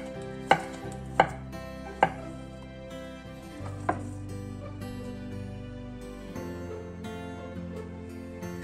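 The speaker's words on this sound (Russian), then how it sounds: "картофель нарежем кружочками." A knife slices boiled potatoes into rounds on a cutting board, several sharp close taps in quick succession and then sparser cuts, with no talking.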